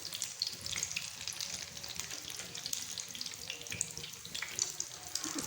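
Vegetable cutlets shallow-fry in a pan, their steady, crackling sizzle running on without pause at a moderate, close level, with no voices.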